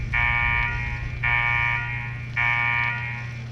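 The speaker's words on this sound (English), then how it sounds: "What the hell is that alarm?" A repeating electronic alarm blares in Fallout 4, three sustained buzzing tones of about a second each separated by short gaps, loud over a low steady hum.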